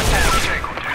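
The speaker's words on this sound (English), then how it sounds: "I was shooting at my own team." Rapid gunfire in the first-person shooter CS:GO, a dense loud burst of shots filling the second with game noise behind it.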